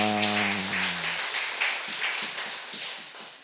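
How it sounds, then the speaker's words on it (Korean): A church congregation at Sunday worship breaks into applause as a sung hymn's closing chord fades, the clapping continuing as a steady scattered patter. "우리 하나님께 영광의 박수를 드립니다."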